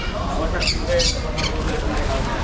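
A sun conure parrot lets out several sharp, shrill squawks in quick succession, close by, alongside some voices at an animal fair in Dhaka.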